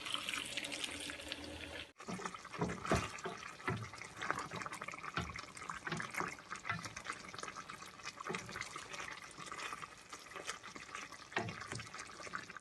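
Water pours into a pot of chicken curry for roughly twelve seconds, a steady, fairly quiet splashing stream close by, with no one talking.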